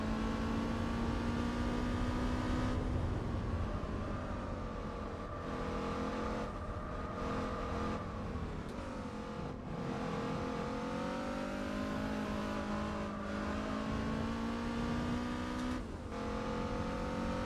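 A car engine droning at high revs in the Gran Turismo 4 video game, a Honda-style VTEC engine, pitch rising and dipping as it shifts and accelerates, continuous and unbroken, with no talking.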